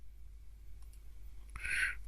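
A computer mouse clicked while working in Excel 2016 page setup: a single faint, sharp click near the end of a quiet stretch with low room hum.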